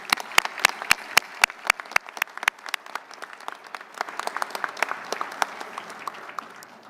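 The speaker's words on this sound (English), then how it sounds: "Please join me in a round of applause." Applause from a luncheon audience at a naval event honoring sailors, opening with a few sharp, loud individual claps that quickly swell into a fuller, steady round of clapping from many hands.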